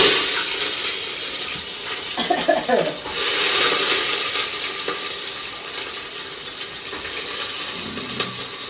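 Spices sizzle loudly in hot oil as a tempering for dal, with a crackling hiss that swells midway, while a voice briefly murmurs early on.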